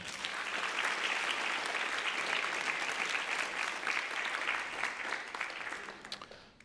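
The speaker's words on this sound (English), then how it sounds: "Go ahead, give them a round of applause." Audience applause at a high school 9/11 memorial ceremony, right after the national anthem: a steady wash of many hands clapping, fairly distant, holding level before tapering off near the end.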